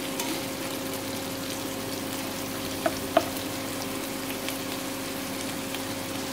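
Chicken pieces frying in a pan with turmeric and salt, giving a steady, even sizzle throughout with a faint low hum beneath and a couple of tiny clicks, close and without talking.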